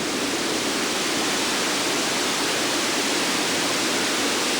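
A synthesized running waterfall built in VCV Rack: a loud, steady, dense hiss of rushing noise that holds unchanged from start to finish with no talk.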